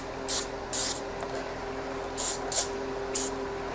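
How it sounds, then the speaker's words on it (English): Five short hissing bursts from a silicone spray can, uneven in spacing, close by over a quiet low hum, while servicing a DeWalt DW735 thickness planer. "I'll give it a spritz of silicone spray."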